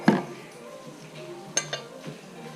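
Chopsticks clink against a pan while kimchi fried rice is stirred, a few sharp taps and scrapes over a quiet background.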